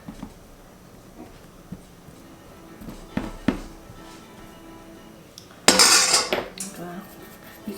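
New potatoes spread out across an oiled pan, a few scattered knocks and light clinks followed by a louder burst of scraping and rattling against the metal, close up with no voice.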